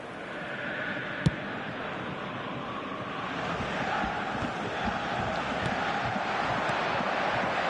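Stadium crowd in the eFootball console game, a broad roaring murmur that swells gradually and holds steady, with one brief sharp click early on and no talking.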